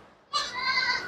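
Homebred goats and goat kids at a breeding farm in Bhiwandi, a single clear nasal bleat rising suddenly after brief quiet and holding steady, close to the listener with no talk.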